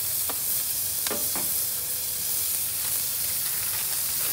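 Smash burgers frying on a griddle over a Weber Master Touch Premium charcoal grill give a steady, loud sizzle with a few scraping spatula strokes near the start.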